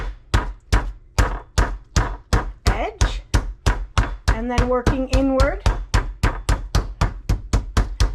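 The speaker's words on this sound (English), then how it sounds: "we're going to take our meat hammer" A meat hammer pounds a chicken breast flat: a steady run of about two dozen sharp, close, hard thuds at a fast, even pace, with a voice talking briefly over the middle.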